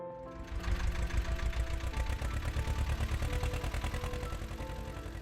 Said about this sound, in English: The sound of that tractor means it's time for us to get to work.